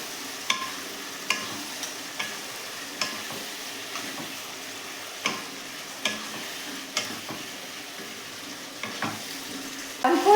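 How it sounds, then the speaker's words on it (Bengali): Marinated chicken frying with spices for murgir jhuri kabab, a steady soft sizzle under regular scraping knocks of a spoon stirring against the pan, close by. "যে চিকেনটা ম্যারিনেট করে রেখেছি সেই চিকেনগুলো দিয়ে দিলাম। এগুলো মশলার সাথে খুব ভালো করে মিশিয়ে নেব।"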